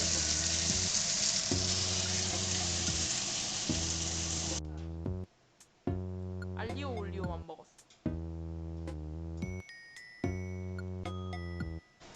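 Chadolbaegi beef brisket sizzles loudly in garlic oil in a pan for cream pasta, a dense hiss for the first few seconds under music and voices before cutting off, leaving talk and music.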